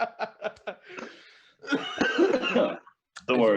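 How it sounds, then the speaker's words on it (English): A man's moist, phlegmy smoker's cough comes as a quick run of short hacks, then a longer rattling fit mixed with breathy chuckling, close to the mic, followed by a brief voiced sound. "It's a moist cough. Yeah, this is a smoker's cough"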